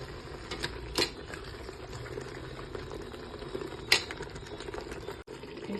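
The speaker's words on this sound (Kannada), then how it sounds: "ಈಗ ಮಟನ್ ಹಾಕ್ಕೊಳ್ಳೋಣ." Mutton pieces sizzling and frying in hot oil with spices in a pressure cooker, a steady crackling hiss with a couple of brief sharper clinks, no talk.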